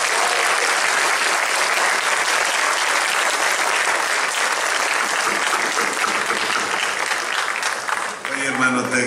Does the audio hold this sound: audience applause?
yes